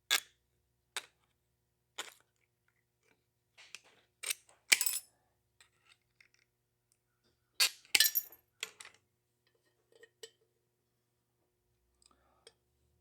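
Hand snips cut 20 gauge mild steel in short, sharp metallic snaps and clinks, spaced irregularly with quiet gaps between them, close and crisp.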